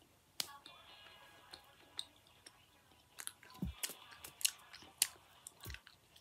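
Someone chews a Wats snack close to the mic, producing scattered crisp crunches and clicky bites with quiet gaps between them.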